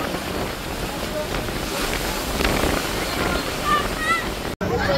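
Big sea waves crash against rocks near the Vivekananda Rock Memorial as strong wind roars, a steady loud wash of surf and wind buffeting with a faint voice briefly audible near the end.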